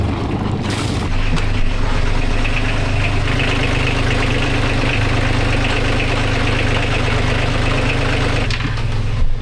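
A car engine idles steadily after its alternator was refitted, following a broken engine mount; the running is loud and continuous with an even low rumble and no talk.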